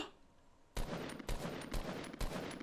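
Rapid bursts of video game gunfire ring out in several quick volleys, loud and close, during play in a fort-building shooter.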